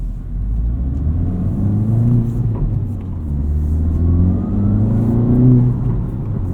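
A Honda Civic Type R FL5, tuned with a COBB Accessport, rumbles with its engine in +R mode, the steady mid-pitched engine note swelling and easing as it revs, close and continuous with no talk.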